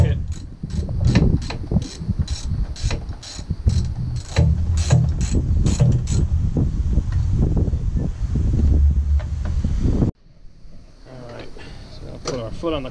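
Ratchet driving a 12 mm socket while swapping the glow plug relay on a Kubota L3010 tractor: rapid bursts of clicking ratchet strokes for several seconds, then scraping and handling noises after a short pause.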